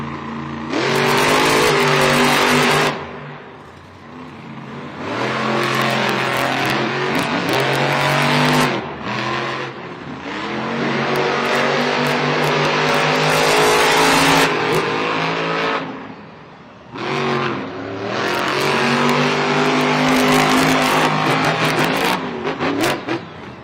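Monster trucks race at a Monster Jam stadium event in San Diego, their engines roaring loud and close, revving up and down in long surging waves throughout with no talk.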